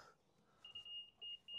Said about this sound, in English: Ideally it wants to be a steady beep on top of the plate